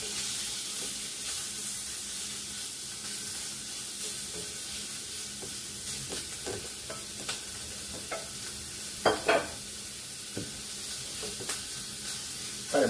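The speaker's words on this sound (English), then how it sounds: "Let's go ahead and get our shrimp in here. So I'll cook in our shrimp." Deveined, tail-off shrimp sizzle steadily in a hot pan for a honey shrimp stir fry, a continuous close frying hiss with a few clinks and scrapes of stirring and no talk.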